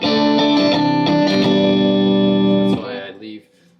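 Electric guitar played through a preamp pedal on a pedalboard, brighter top end on sustained chords, several strummed hits ringing out loudly before the tone cuts and fades to a few softer notes.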